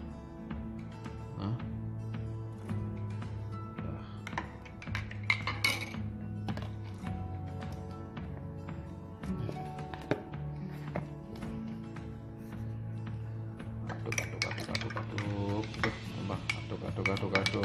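Sugar stirred into Balinese-style coffee in a cup, a spoon clinking and tapping against the sides in a steady run of light chimes, with someone talking in the background throughout.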